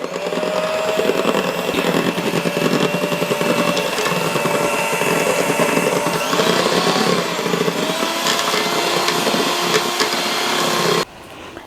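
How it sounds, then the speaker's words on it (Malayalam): An electric hand beater whips cupcake batter in a bowl, a steady loud motor whine with a faint pitch drift running unbroken for about eleven seconds before cutting off. "ഇനി നമുക്ക് വീണ്ടും ബീറ്റ് ചെയ്ത് കൊടുക്കാം"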